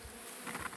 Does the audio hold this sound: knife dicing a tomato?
no